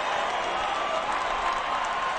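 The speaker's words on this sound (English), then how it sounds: "And again, wild cheering going on from the Cardinals faithful." Simulated crowd of Cardinals fans cheering in the OOTP19 baseball game during a 1946 World Series replay, a dense steady roar of applause and cheers with no voices over it.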